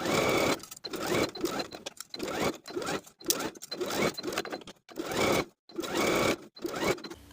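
A sewing machine stitches a 5/8 inch seam around the top edge of a summer ruffle tier dress, running in close bursts of steady whirring separated by brief pauses.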